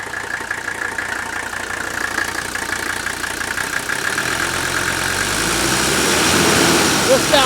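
A 1983 Mercedes diesel engine runs steadily, first at idle and then coming up to around 2,000 RPM, with a continuous rough mechanical rattle that grows a little louder toward the end.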